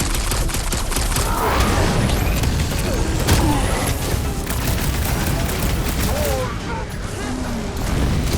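Dense, continuous gunfire and mechanical clatter from a Guardians of the Galaxy game battle, as blasts are fired at a big pot, with scattered booms and pings layered throughout at steady high loudness.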